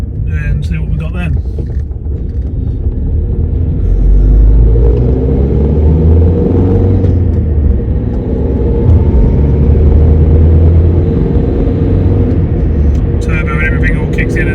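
A 2005 Vauxhall Meriva's engine and turbo whir and rumble while cruising around 50 mph, a steady low cabin drone that swells midway, with a voice talking over it.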